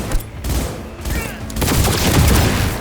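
Gunfire in the video game Cyberpunk 2077 comes as a dense, loud burst of rapid shots and impacts that swells into a sustained fusillade in the second half, with voices shouting over it.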